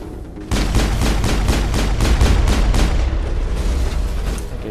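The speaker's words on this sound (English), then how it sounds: "I'm getting shot at." Rapid bursts of gunfire from the video game Mass Effect ring out close and loud, a run of about a dozen evenly spaced shots over a rumbling background.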